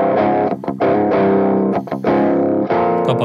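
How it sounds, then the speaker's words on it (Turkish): Electric guitar DI signal run through a Tube Screamer overdrive pedal with no amp, a loud, continuous gritty distorted tone of sustained chords with brief gaps between strums, no talking. "Sadece pedalın gitarla birlikte, gitarın o DI sinyaliyle birlikte pedalın etkisini bir duymaya çalışın."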